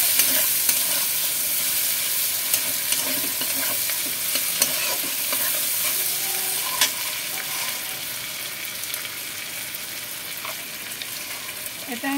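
Tomatoes and capsicum fry in hot oil while a spatula stirs them around the pan, producing a steady loud sizzle with irregular scraping and clinking from the stirring throughout.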